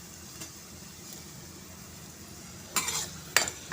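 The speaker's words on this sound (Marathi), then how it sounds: "कांदा परतून घेते" Onion sautés in a little oil in a wok, a quiet low sizzle broken by a couple of short scraping stirs of a spoon against the pan near the end, with no talking.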